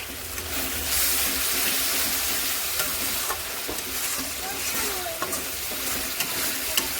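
A spice paste of ground cashew, ginger paste, turmeric, salt and tomato sautés in oil with a continuous close sizzle and bubbling, plus occasional light stirring clicks and scrapes.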